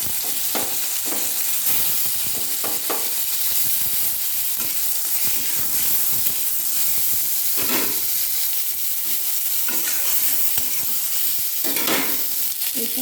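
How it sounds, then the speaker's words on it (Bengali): Cut mango pieces frying in a pan with mustard seed, dried chilli and panch phoron tempering, a loud continuous sizzle and hiss with intermittent stirring and scraping close by. "কেটে রাখা আমগুলো ভেজে নেব।"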